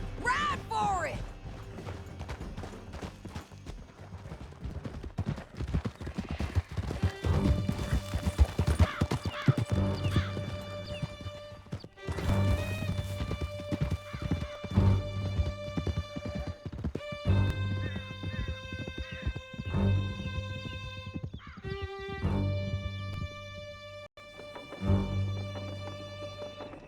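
Horses gallop away with riders in Red Dead Redemption 2, a steady clip-clop of hooves over a rich orchestral score, with a brief whinny and game voices speaking partway through.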